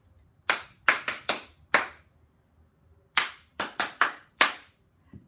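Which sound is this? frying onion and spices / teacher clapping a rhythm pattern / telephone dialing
teacher clapping a rhythm pattern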